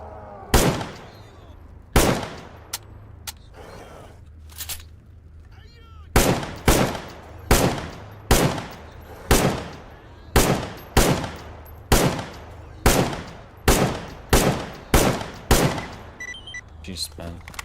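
Gunfire in STALKER GAMMA, a long series of sharp, loud shots fired one by one in a fairly steady rhythm, with a few scattered shots first and a low rumble underneath.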